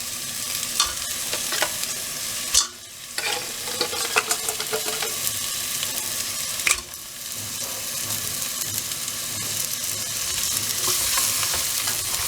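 Crab frying in a pan with ginger garlic paste for crab masala, a loud continuous sizzle with occasional stirring scrapes and clicks.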